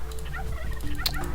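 Turkey gobbles from the Age of Empires II game, a few clipped bird calls over a steady low game background hum, with a sharp click near the end; no talking.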